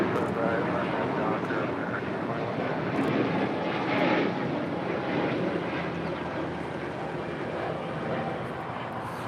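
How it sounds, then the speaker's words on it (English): A Spirit Airbus A320neo departs from LAX toward Columbus, Ohio, a broad, steady jet engine roar with a slight swell midway, distant and sustained, with radio chatter faintly beneath. "That is Spirit 888 departing to Columbus, Ohio on the A320neo."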